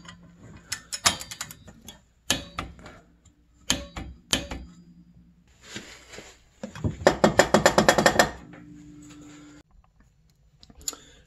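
Torque wrench tightening the driven clutch bolt on an Arctic Cat ZR 600 EFI snowmobile, several sharp metallic clicks followed by a dense burst of rapid ratcheting, then quiet, heard close up in a workshop.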